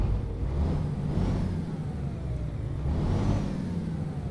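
Liaz 300S truck engine in American Truck Simulator, heard from outside, a loud steady mid-pitched drone with two rising revs swelling and falling back.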